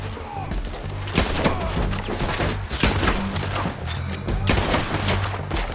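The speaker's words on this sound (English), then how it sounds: "I'm firing!" Rapid, heavy gunfire in Red Dead Redemption 2, overlapping loud shots and cracks forming a near-continuous fusillade with a few stronger blasts standing out, voices faintly underneath.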